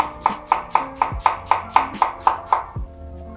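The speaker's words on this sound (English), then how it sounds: "I'm gonna chop up some onions for later while I'm at it" Onions chopped with a knife on a cutting board for Korean bulgogi: about ten quick, evenly spaced chops in a crisp steady rhythm, close and loud, with a heavier thud or two from the board near the end.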